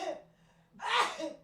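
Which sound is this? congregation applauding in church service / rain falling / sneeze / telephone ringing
sneeze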